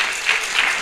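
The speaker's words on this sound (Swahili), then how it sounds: "Mpigeni makofi" A church congregation at a synagogue-style main service breaks into brief, dense clapping, a short burst of many hands sounding loud and close.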